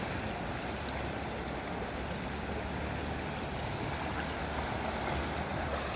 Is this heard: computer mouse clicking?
no